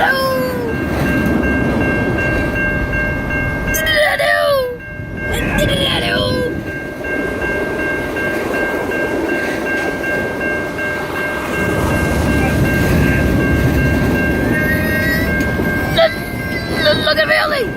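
A train passes on the railway on Armstrong Road in Newport, a loud rumbling roll with horn-like tones and squeals, while excited voices shout over it nearby.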